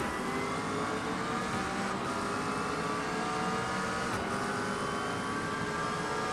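A Porsche GT3 race car engine in the iRacing sim at Fuji roars steadily, with rising and falling revs through gear changes, loud and close throughout, with no talking.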